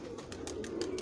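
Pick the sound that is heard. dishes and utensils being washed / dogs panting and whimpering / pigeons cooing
pigeons cooing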